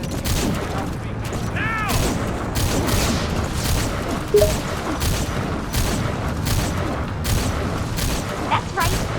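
Gunfire and heavy booms from the video game Metal Gear Solid 5: The Phantom Pain, a steady run of sharp shots and blasts at even intervals under a shouted command and game voices.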